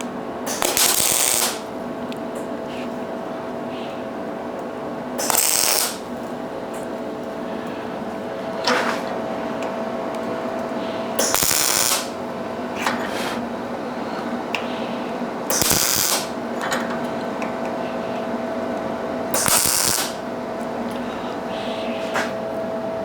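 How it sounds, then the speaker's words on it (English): Tack welding a steel body panel dent puller, with repeated short bursts of buzzing MIG arc spaced a few seconds apart over a steady background hum, close and fairly loud. "Now I'll weld inside of here, but not in those outer areas."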